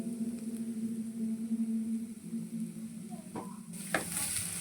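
Vegetables for veg momos sizzle softly in a pan while being stirred, a quiet steady fry with a few scraping knocks near the end.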